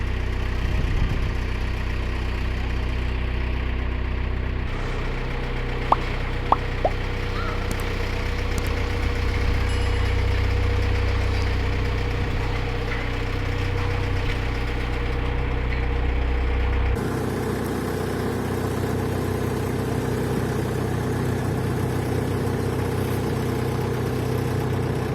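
A narrowboat engine running while cruising, a steady loud low diesel drone and rumble that continues throughout, with a few faint clicks early on and a slight change in tone partway through.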